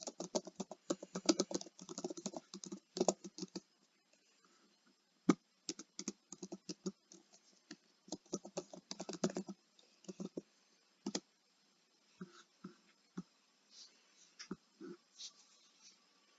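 Quiet keystrokes on a computer keyboard as an email and password are typed, coming in quick clattering bursts separated by short pauses and then thinning to scattered single taps, with no talking.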